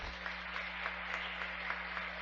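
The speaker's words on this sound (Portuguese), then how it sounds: "Vamos aplaudir a palavra de Deus?" A church congregation applauding after a Catholic sermon on Our Lady, a steady wash of many hands clapping together that holds at an even level for the whole stretch with no talking.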